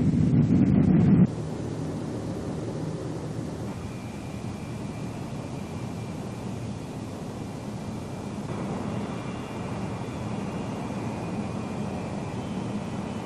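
A B-47 Stratojet jet bomber taking off, heard in a 1952 U.S. Air Force training film as a steady, wind-like roar that holds for a long stretch, with no voices.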